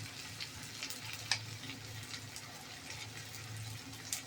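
A spiced onion and tomato mixture with curry leaves, coconut, turmeric and salt sizzles and fries steadily in a pan while a spoon stirs it, close and fairly quiet, with a couple of sharper clinks of the spoon against the pan.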